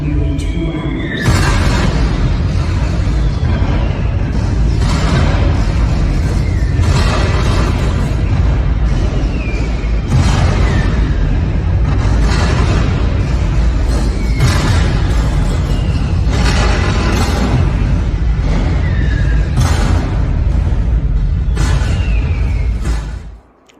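Cannon bombardment at Gettysburg, with Union guns answering Confederate artillery: a dense, continuous series of heavy booms and blasts, loud and close, repeating every few seconds for over twenty seconds without any talking.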